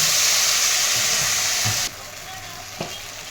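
Spice paste for doi potol curry frying hard in a pan, a loud, close, steady sizzle with a few stirring knocks that drops abruptly to a much quieter simmer partway through.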